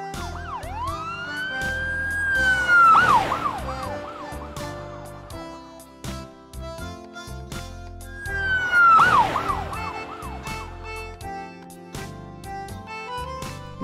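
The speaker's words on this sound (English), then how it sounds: "Police car." A police siren wails in repeated rising and falling cycles, loud and close, with two louder bursts standing out over the steady tone.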